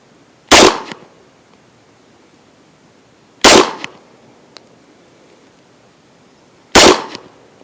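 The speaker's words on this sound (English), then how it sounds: "All right, 3 more shots." Three loud, sharp pistol shots from headshot drills on a shooting range, each a single crack with a short echoing tail, spaced about three seconds apart in an otherwise quiet setting.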